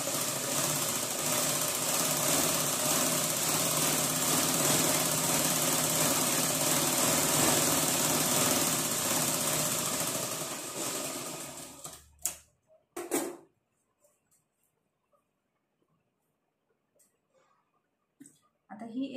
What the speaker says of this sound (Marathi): आणि एक साइड अशी स्टिच करून घेते.